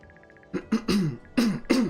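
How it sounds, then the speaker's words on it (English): A streamer coughs repeatedly from a dry throat during a Radiant Dawn game stream. Four or five close, harsh coughs come in quick succession after a faint soft beeping in the background. "it's time to start coughing, actually"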